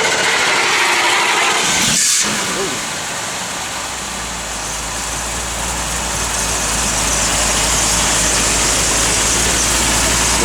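A 1971 Dodge Challenger R/T V8 cranks and fires up, then settles into a loud, steady rumbling idle close by, with no talking over it.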